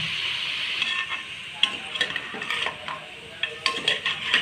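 Mutton gravy masala frying in hot oil while a spoon stirs it, a steady close sizzle broken by irregular scraping and clinking of the utensil against the pan.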